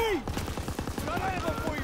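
A mounted machine gun firing from a farmhouse hayloft in the World War II shooter Call of Duty: WWII, a rapid, rhythmic string of close, loud shots with a voice calling briefly over the start.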